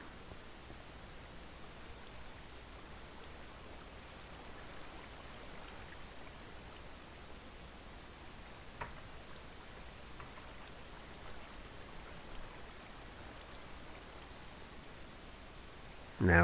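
Flowing water in Minecraft, heard as a steady, faint, even hiss of running water that continues unbroken throughout with no voices.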